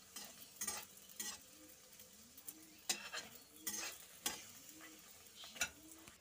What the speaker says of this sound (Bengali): তো এইভাবে সবকটা ভেজে আমি নামিয়ে নেব